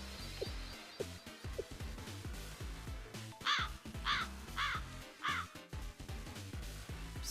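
A crow caws four times in a row, each call harsh and fairly close, over a busy background of other sharp sounds.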